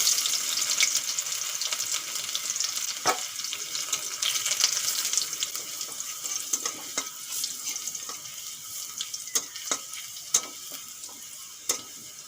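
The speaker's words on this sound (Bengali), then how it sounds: "রসুনগুলো বেশ লাল লাল করে ভেজে নিয়েছি" Crushed garlic and black cumin seeds frying in hot oil make a steady, hissing sizzle with scattered crackles and sharp pops, close and moderately loud, with no talk.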